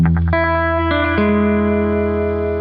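Electric guitar with effects playing a riff, a few quick picked notes followed by sustained ringing notes dropping in pitch, loud and close with reverb, no talking.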